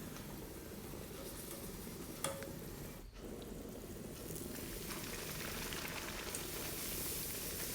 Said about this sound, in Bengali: গরম তেলে দিয়ে তারপর একটু সাইড করে এরকম করলেই লুচিটা পুরো ফুলে যায়।